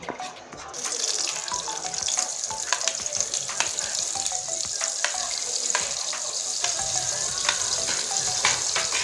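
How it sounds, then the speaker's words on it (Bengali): Chopped onion sizzles in hot oil in a pan, a continuous crackling hiss with scattered pops and spits, fairly loud and close, with no voices. "এই পেঁয়াজটা এখন দিয়ে দিচ্ছি তেলের উপরে"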